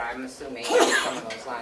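A single sharp sneeze bursts out during a county commission meeting in New Hampshire, cutting across a man's ongoing speech in a room.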